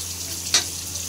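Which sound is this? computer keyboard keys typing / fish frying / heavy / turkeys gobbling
fish frying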